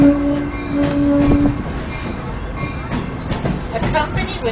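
Steady rumble of a Sacramento train riding along the rails, a continuous close rolling drone with faint squeals and clatter, with voices talking over it.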